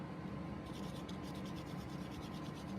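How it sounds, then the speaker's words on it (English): Steady, close rubbing over a country-home craft project to give it an antiqued, rustic look: a continuous rough swishing texture that stays at an even level throughout, with no talking. "And I just kind of rubbed it all over"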